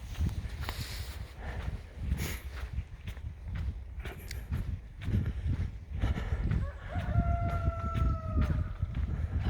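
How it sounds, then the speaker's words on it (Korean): A rooster crowing near a walking trail in Nangwol-dong, two drawn-out calls late on, heard over nearby footsteps and outdoor rustle, fairly distant and moderate in level. "닭 우는 소리도 들리네요."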